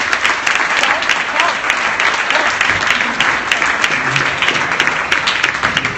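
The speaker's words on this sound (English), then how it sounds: "Massive round of applause." A crowd at a startup pitch night claps in a loud, sustained round of applause that stays even and continuous throughout.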